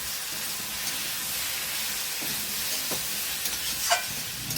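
Masala with ground coriander and cumin sautéing in a pan, an even soft sizzle and steady hiss throughout with a few faint clinks of stirring, no talk.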